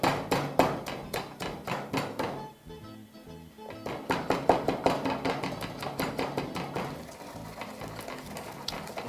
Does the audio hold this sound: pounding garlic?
yes